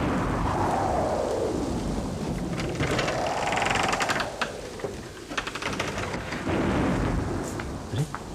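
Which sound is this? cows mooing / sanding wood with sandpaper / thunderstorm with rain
thunderstorm with rain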